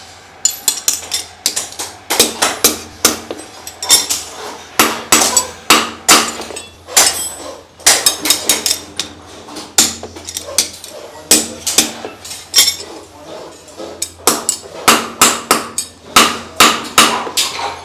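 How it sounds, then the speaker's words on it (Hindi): Metal hammer blows strike steel scissors as a band is set into them during manufacture in a Meerut workshop, a rapid series of sharp, ringing clanks in irregular bursts, close and loud with no talk. "हथौड़े से बैंड डाला जा रहा है"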